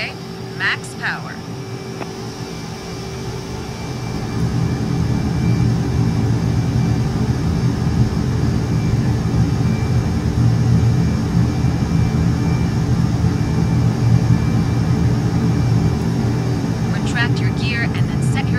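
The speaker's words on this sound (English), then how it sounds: "Your goal is a high-performance takeoff with an unrestricted climb in full afterburner." An F/A-18E Super Hornet in a flight simulator game spools up to maximum afterburner power for takeoff, a steady rising roar that swells after a few seconds and holds loud and continuous, with a voice talking briefly at the start.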